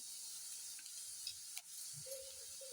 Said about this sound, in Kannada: ಸ್ವಲ್ಪ ಈರುಳ್ಳಿ ಎಲ್ಲ ಚೆನ್ನಾಗಿ ಫ್ರೈ ಆಗಲಿ